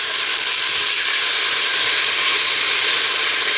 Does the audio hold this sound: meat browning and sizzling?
yes